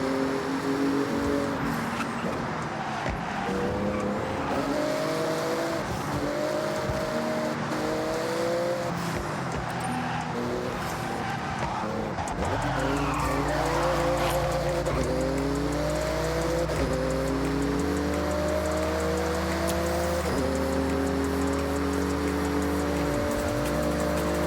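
A Porsche races through a speed zone in the Forza Horizon 6 video game, its engine revving and climbing through repeated gear shifts, with tire squeal and a loud, continuous drone throughout.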